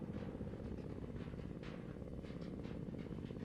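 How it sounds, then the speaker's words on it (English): An enemy attack helicopter in the Arma 3 video game drones steadily with a dense, continuous rotor and engine rumble, fairly loud and unbroken, with no voices. "Enemy attack helicopter, last seen going west."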